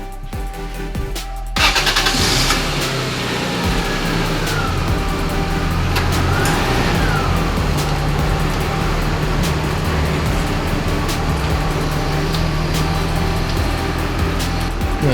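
A car engine cranks and catches with a loud burst, then settles into a steady, close-up running idle that continues evenly to the end.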